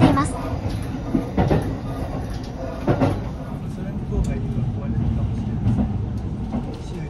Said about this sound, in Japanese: 列車は佐久間駅付近を走行しています。